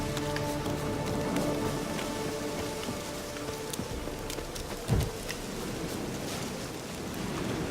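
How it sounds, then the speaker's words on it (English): Steady rain in The Witcher 3: Wild Hunt, a dense, even patter of drops on surfaces with a low rumbling bed and one brief thump partway through, no voices. "Looks like rain."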